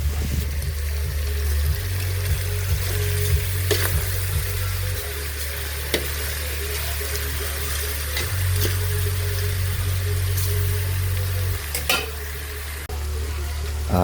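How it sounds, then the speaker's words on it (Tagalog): Pork chops fry steadily in a hot pan with a continuous loud sizzle and crackle, and occasional clinks and stirring sounds on top, with no talking. "Pipirito naman tayo ng pork chop."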